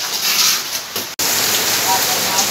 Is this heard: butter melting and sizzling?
no